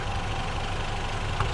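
A Lexus GS300 engine runs steadily, a close, continuous low mechanical drone with only a slight swell near the end.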